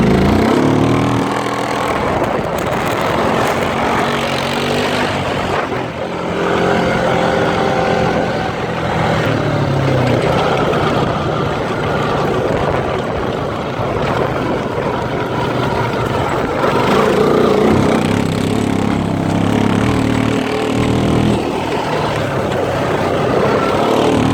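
A quad ATV engine drones loud and close for the whole stretch, its pitch rising and falling as the throttle opens and eases while the machine rips along off-road, in third gear, with no voices over it.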